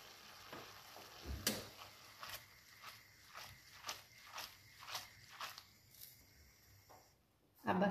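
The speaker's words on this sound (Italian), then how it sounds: "terminiamo la cottura così nella salsa" Tagliolini finishing in a lemon sauce in a pan on the stove, heard as a soft sizzle under a steady rhythm of stirring and tossing strokes, each a quiet scraping burst about every half second, fairly faint and close.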